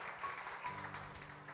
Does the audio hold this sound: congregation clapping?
yes